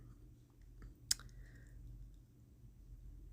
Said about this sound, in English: I'm going to use my scallop punch border